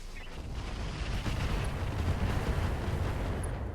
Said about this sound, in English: we are going to drop bombs in the rear arc of this rifleman